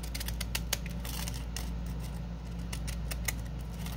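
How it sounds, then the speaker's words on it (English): Pinking shears snip through thin grocery-bag plastic in a quick run of sharp, close clicking cuts over a low steady hum, with no voices. "see if my other pinking shears work a little bit better"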